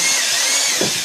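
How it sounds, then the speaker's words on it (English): A power drill whines steadily at close range while boring a hole in a Rubbermaid plastic container, with a faint bump near the end. "I have a drill here, and I'm just going to drill a series of holes"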